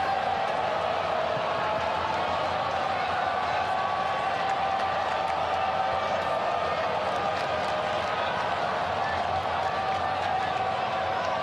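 A crowd of just under 30,000 at the MCG for an AFL football match between Collingwood and Gold Coast, a steady distant roar murmuring throughout under a commentator's voice.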